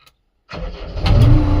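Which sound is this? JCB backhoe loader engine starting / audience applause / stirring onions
JCB backhoe loader engine starting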